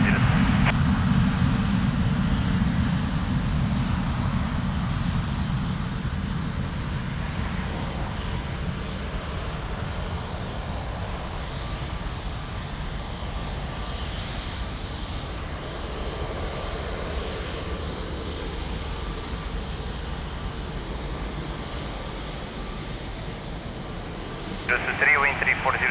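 An aircraft on approach to runway 02 at Lisbon Airport gives a low, steady engine rumble that fills the background throughout, with no break.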